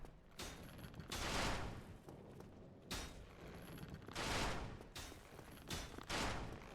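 Enemy gunfire in the Dark Souls Remastered video game: loud, broad bursts of fire recurring about four times in quick irregular succession, each a short noisy blast with a brief high ring, over steady background game noise.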